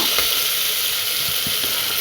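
Curry leaves crackle and sizzle in hot oil for a tempering. The frying hiss is steady and close, with a few brief pops.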